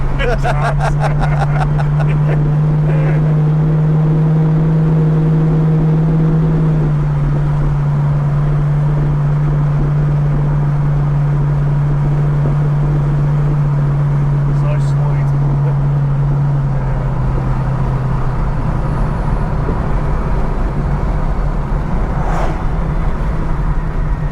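A supercharged 1966 Ford Mustang GT cruising on a main road, its engine a steady low drone throughout with a slight dip in pitch partway through, while people talk inside the car.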